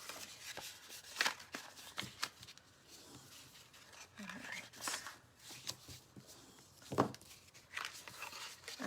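Folded paper for a handmade card is creased by hand in a quiet craft setting, giving soft scrapes, rubs and crinkly taps close by, with a brief louder snap and faint talking in the background.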